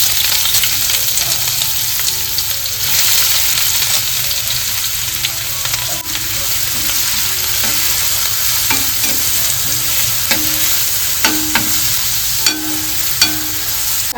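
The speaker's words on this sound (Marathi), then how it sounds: "आता इथे ना मी तेल घालून घेतलंय 2 पल्ली. आता कांदा घालून घेते." Chopped onion frying in oil in a pan, a steady close crackling sizzle that runs throughout with occasional soft clicks of stirring.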